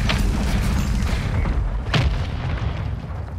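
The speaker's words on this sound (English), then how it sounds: "Mortar strike on the way." A mortar strike explodes in a military video game as a loud, booming blast around the two-second mark, set against constant heavy low rumble of battlefield noise.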